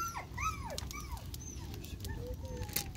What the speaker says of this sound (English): Which dog is whining?